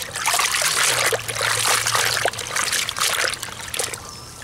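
Dyneema and polypropylene webbing suspension lowered into water gives a close, continuous trickling and light splashing with small drips throughout.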